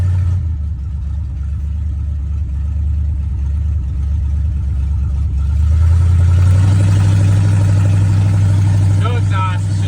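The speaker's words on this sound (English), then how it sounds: "No exhaust, it's just little turn downs from the manifold, so it's a little loud." A 1981 Chevy C10 pickup engine runs loud with no exhaust system, only short turn-down pipes off the manifold, giving a steady low rumble that grows louder and rougher partway through, with a voice talking over it.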